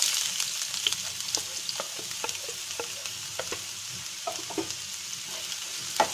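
Sliced onion sizzling in hot mustard oil in a pan, a steady high hiss with scattered pops and crackles and occasional stirring scrapes, close and moderately loud, no voices.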